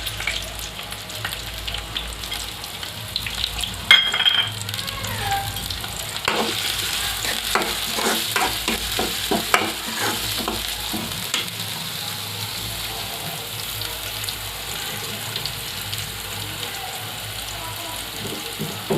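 Chicken garelu fritters sizzle and crackle in hot oil, a steady close frying hiss with brief bursts of popping and spattering, no voices.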